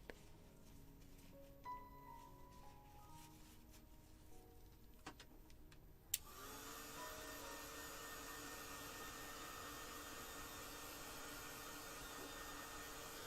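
A heat tool switches on about halfway through, its steady airy whoosh drying paint on a handmade 3-D star and glass ball ornament card, following quiet handling noises.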